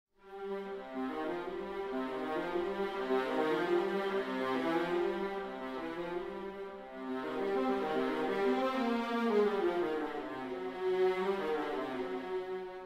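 Pacific Strings sampled string ensemble playing fast repeated phrases in two sustained swelling passages of smooth, layered bowed notes, moderately soft and continuous.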